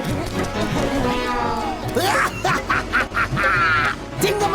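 A cartoon duck from Motu Patlu, the golden-egg-laying duck being chased, quacks in several quick, loud, nasal bursts over busy cartoon background sound, with voices talking around it.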